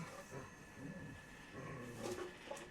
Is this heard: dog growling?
yes